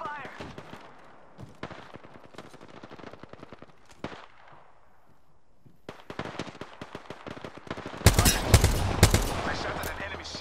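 Bursts of gunfire from an Apex Legends match, with scattered rapid shots early on and a loud, dense burst of fire near the end, alongside in-game action sounds.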